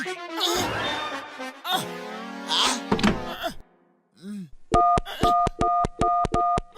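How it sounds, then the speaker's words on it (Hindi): A public phone booth being dialed: a run of short, evenly spaced electronic keypad tones sounds close and clear after a stretch of talk and a soft thunk. "मैं अमेरिका अपनी मम्मी को फोन लगा रहा हूँ।"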